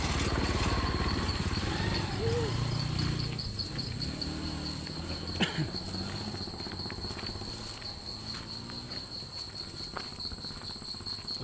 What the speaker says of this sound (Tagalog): Ay no, may mga kuliglig.